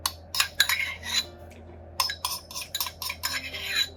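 A spoon scrapes and clinks in a bowl while rehydrated sea lettuce is mixed into cream cheese, giving irregular bursts of close scraping separated by short pauses.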